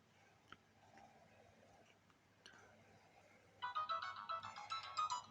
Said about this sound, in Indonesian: Ya ini untuk NG ringtone-nya ya, dan lumayan keras.